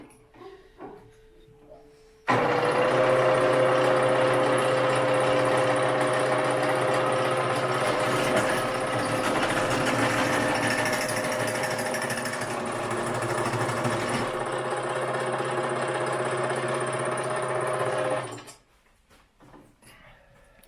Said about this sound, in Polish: chłopaki już są przy wiertarce.